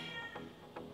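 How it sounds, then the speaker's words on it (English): A cat meows twice in a kitchen during home canning of roasted beets, two short cries close to the microphone over a steady background hum. "Cat!"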